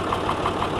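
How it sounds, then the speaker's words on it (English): Small half-size Ford tractor with a 3-cylinder diesel engine running steadily, a loud, close, even knocking chug with no pauses over the short stretch. "3-cylinder diesel engine"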